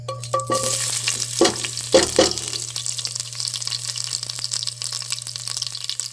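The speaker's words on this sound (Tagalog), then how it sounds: "maggisa na tayo ng sibuyas, bawang" Onion and garlic sautéing in a pan, a gentle sizzle with clattering stirs and utensil knocks over a low steady hum, tapering to quieter frying.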